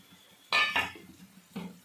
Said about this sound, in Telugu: ఒకసారి మూత తీసి చూద్దాము